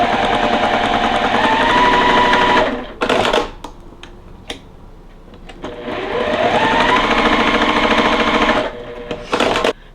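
A sewing machine stitches a quilt block in two long, fast runs, its motor whirring with rapid needle clatter and pitch rising as it speeds up, separated by short handling clicks and fabric rustles.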